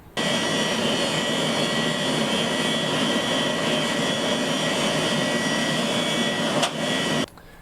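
A 1970s 10MB minicomputer hard drive spun up, giving a loud, steady whirring roar with a high whine that holds for about seven seconds, a brief seek tick near the end, then stops abruptly.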